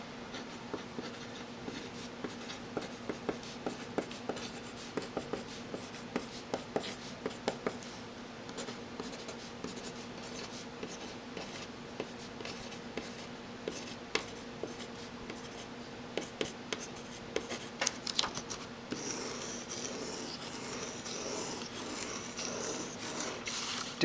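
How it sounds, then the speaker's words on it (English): A Paper Mate PhD Ultra mechanical pencil writes on paper, giving soft, close scratchy strokes in quick irregular bursts over a quiet background, with no voices. "So let's write with it real quick."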